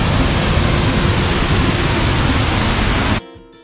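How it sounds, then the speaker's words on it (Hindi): Ban Gioc Waterfall on the Vietnam–China border roars as a loud, dense, continuous rush of falling water close by, then cuts off abruptly near the end. "ये बहुत ही खूबसूरत वाटरफॉल है"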